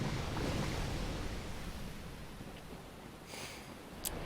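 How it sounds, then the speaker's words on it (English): Water rushes in across the scene in Dark Souls: Remastered, a broad, surf-like roar that is loudest at the start and eases to a steady wash, with a brief sharp click near the end. "that water coming flying in is actually able to kill those dudes for you"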